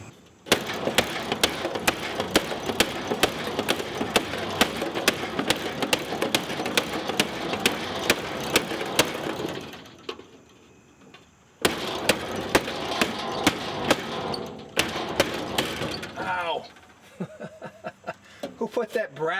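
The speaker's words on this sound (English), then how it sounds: "I'm going to hammer that, see if I can't do something with that." Rapid, sharp metallic hammer blows on an old oval-window VW Beetle's body metal ring out in steady bursts, pausing briefly before resuming, with some softer clanks near the end.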